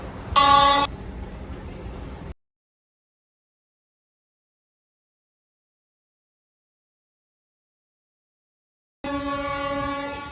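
A loud, steady train horn blares in two bursts separated by a long silence, each with a rich, buzzing harmonic tone.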